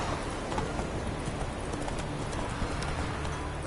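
Horse hooves galloping in The Witcher 3 video game, a steady rapid clip-clop running continuously through the clip alongside light ambient game sound, no talking.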